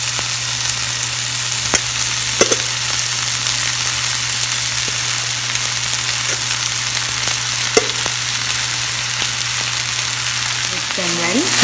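Idli upma with spices sizzles steadily in a hot pan, a dense continuous frying hiss with occasional clicks and scrapes of stirring, heard up close without talk.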